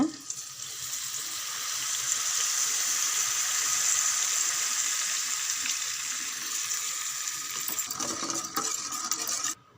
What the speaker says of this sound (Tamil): புளி ரசம் நல்லா கொதிச்சுட்டு இருக்குது.